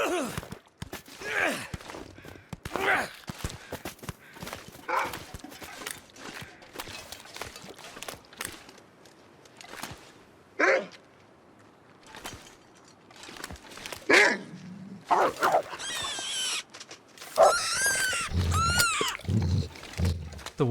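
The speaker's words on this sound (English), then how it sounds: "The wolves are terrifying" Wolves in the video game The Long Dark give loud, rough growls and snarls in scattered bursts, close and menacing, with quiet wind between them.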